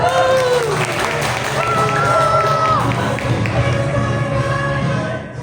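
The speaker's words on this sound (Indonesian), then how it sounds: "Tepuk tangan dulu teman-teman" Audience applause at a public speaking seminar, scattered clapping mixed with crowd bustle, thumps and brief voices, with tonal sounds weaving through and a drop near the end.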